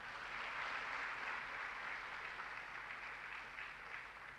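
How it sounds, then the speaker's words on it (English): A seated audience at a university undergraduate induction programme claps in a steady, even round of applause, moderately distant and sustained throughout without any talk. "Round of applause, please."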